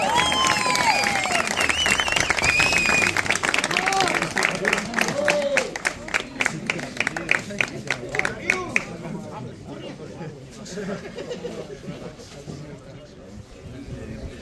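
Audience applauding at a car race prize ceremony, a dense burst of clapping and cheers that thins into scattered claps and crowd chatter, mixed with a voice speaking over a loudspeaker.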